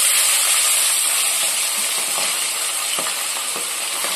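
Jackfruit pieces fry in hot coconut oil, giving a loud, steady sizzle and hiss with faint pops and stirring clicks, and no talking.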